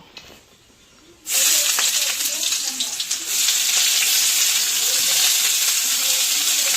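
Chopped onion with dried red chillies and cloves hitting hot oil, bursting into a loud, continuous close-up sizzle after a quiet start, with occasional stirring scrapes.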